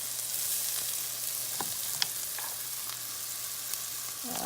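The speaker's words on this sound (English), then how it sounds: "Give that a little stir in the butter, and I'm going to let that kind of saute and soften" Diced vegetables sauté in butter in a pan for potato soup, giving a soft, steady sizzle with a few faint clicks of stirring and a light clatter near the end.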